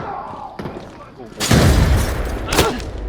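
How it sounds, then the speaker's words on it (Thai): Sharp bursts of gunfire in the video game Arena Breakout: Infinite crack out, one loud blast followed by another a second later, over quieter background sounds. "ใครยิงวะ"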